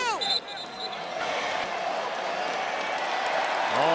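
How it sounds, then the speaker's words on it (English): A basketball crowd at a BIG3 championship game roars with sustained cheering and applause, loud and continuous throughout, with a whistle-like tone near the start and the end. "Oh, the crowd loves this."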